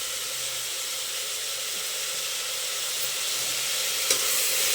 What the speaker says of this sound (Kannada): ನೋಡಿ, ಚೆನ್ನಾಗಿ ಫ್ರೈ ಆಗಬೇಕು.